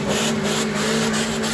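A Mahindra Gypsy's 1.3-litre petrol engine runs close by, giving a loud, steady hum with a fast, even pulse under a constant rough noise.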